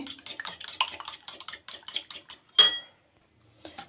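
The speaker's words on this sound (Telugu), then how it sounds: "చూడండి ఎగ్స్ వేసుకున్నాను నేను ఇప్పుడు వీటిని బాగా బీట్ చేసుకుందాము" Eggs being beaten in a bowl for a Maggi omelette, a fast rhythmic clatter of utensil against the bowl repeating for a couple of seconds, then a louder knock and a brief pause before the whisking resumes faintly.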